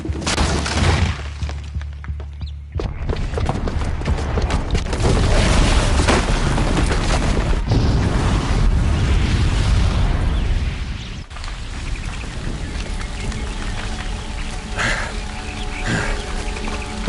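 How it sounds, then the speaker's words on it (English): A bomb explodes in Horizon Zero Dawn, a booby-trapped blast downstairs that sets off a long, loud roaring rumble with shattering debris, sustained for several seconds before settling into a lower, rumbling aftermath. "Because the booby trap on the bomb downstairs is gonna get set off."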